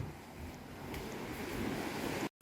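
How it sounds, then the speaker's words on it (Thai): Sea waves wash onto the beach at Khao Takiap in Hua Hin, a steady broad rushing surf mixed with wind noise, close and continuous, cutting off abruptly at the end with no talk. "เราไปชมทะเลกันครับ"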